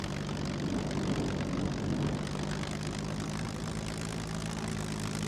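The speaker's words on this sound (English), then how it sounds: "And then I can still control the plane." Propeller plane engine in the survival video game Scum, a steady loud droning hum with a constant low pitch, running close and uninterrupted with no voices.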